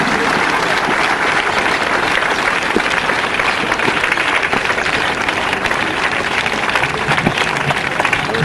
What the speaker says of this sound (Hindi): कृपया तालियों से इनका स्वागत करें।